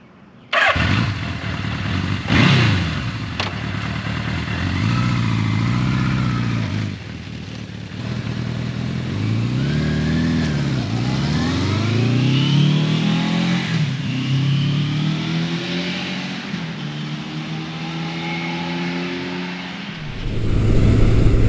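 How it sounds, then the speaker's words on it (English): A 1982 Suzuki GS750E vintage motorcycle revs and accelerates through several gear changes, its engine note rising and falling in repeated sweeps, loud and close throughout with no talking. "I am currently riding Suzuki's 1982 GS750E"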